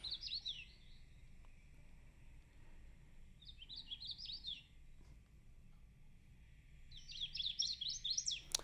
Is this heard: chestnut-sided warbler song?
yes